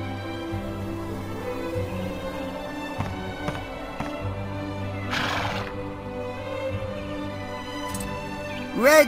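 A horse in the video game Dragon Quest VIII: Journey of the Cursed King whinnies loudly near the end, following a steady low hum, a few soft knocks and a brief rustle, with no voices.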